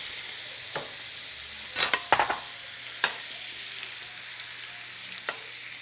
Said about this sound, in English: now we're going to be melting 2 pounds of butter